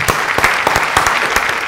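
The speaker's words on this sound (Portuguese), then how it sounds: "Vamos aplaudir o doutor Cláudio aqui, doutor Stefano." An audience applauds Dr. Cláudio in a television talk-show studio, with dense steady clapping and sharp individual claps sustained close and loud throughout.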